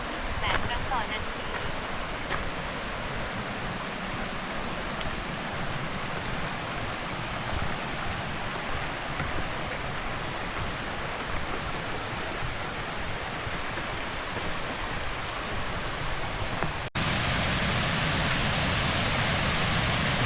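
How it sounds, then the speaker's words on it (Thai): Tier seven of Huai Mae Khamin waterfall pours in a constant, moderately loud hiss of falling water that holds steady throughout and jumps brighter near the end. "น้ำตกชั้นที่ 7 นะครับ"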